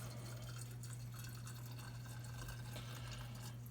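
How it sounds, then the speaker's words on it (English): Liquid for homemade apple pie moonshine poured slowly and steadily into a measuring cup: a faint, continuous trickle over a low, steady hum, with no talk. "You start pouring fast, you'll start dripping off the bottom and all that wonderful crap."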